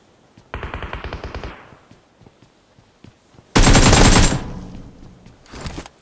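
Bursts of M249 machine-gun fire in a shooter video game: a rapid loud volley, a pause with scattered shots, then a second heavier burst and a short final spurt, close and punchy.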